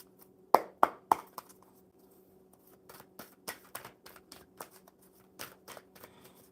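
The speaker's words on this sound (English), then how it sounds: "One more good shuffle." Tarot cards being shuffled close up: a few sharp riffling snaps at the start, then a quiet pause, followed by a series of softer rhythmic shuffling bursts, alone without talk over a faint steady hum.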